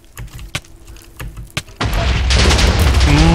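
Bomb blasts in the game Mad Bomber: several sharp percussive bangs early, then a loud sustained roaring rumble of explosions that fills the rest, close and heavy, with no voices.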